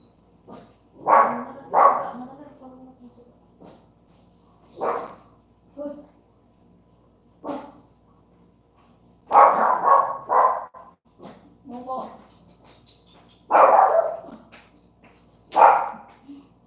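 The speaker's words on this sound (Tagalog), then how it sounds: "Mga aso kumakahol." Several dogs bark in scattered bursts, some close and loud, with occasional yips and whimpers between the barks and a faint voice in the background.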